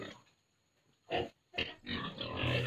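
Pigs at a pig farm in Toraja, a sow nursing her piglets, give several short grunting bursts close by, separated by brief pauses and followed by a longer stretch of continuous grunts and squeals.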